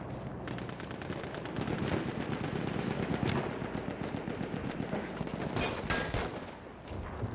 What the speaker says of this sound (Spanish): He escuchado un disparo.